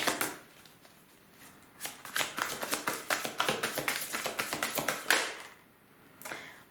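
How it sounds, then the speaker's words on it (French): Tarot cards shuffled by hand in a fast run of crisp riffling flicks, close and clear, then a few separate taps as cards are drawn and laid down, with no talking. "on va tirer 9 cartes"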